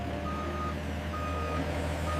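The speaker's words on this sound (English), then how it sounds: "The forklift carries the pallet toward the waiting transport truck." A forklift carrying a pallet of bricks at a brick factory sounds a steady, regular series of reversing beeps over a low engine hum, moderately close and with no talking.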